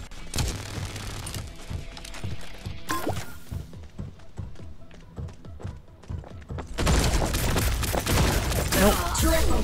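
Gunfire in the mobile shooter T3 Arena played on BlueStacks rattles in quick repeated bursts, with thuds and crashes, then a dense loud barrage near the end under occasional talk.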